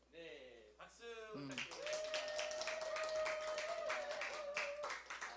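Audience clapping after a talk by a missionary, a brief, fairly quiet burst that follows a short stretch of talking and continues steadily to the end.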